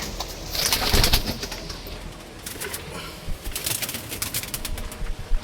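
Pigeons coo softly in low, throaty bursts, with a few wing flaps and other bird sounds around them in an open, busy setting.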